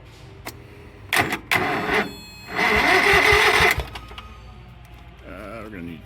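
A Craftsman riding mower with new spark plugs cranks in short bursts, then a longer cranking stretch that fails to catch, close and loud, with a voice briefly heard afterward.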